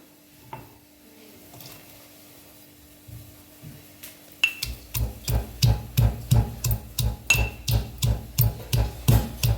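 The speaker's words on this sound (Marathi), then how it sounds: "लसूण आता ह्याला खलबत्त्यात घालून आपण चेचून घेऊया" Garlic and green chillies pounded in a mortar and pestle, a quiet start followed by a loud, close, steady run of rhythmic thuds and clinks, roughly two per second.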